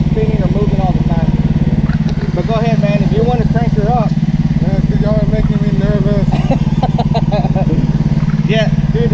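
A zero-turn lawn mower engine runs at a steady, loud drone throughout while people talk over it.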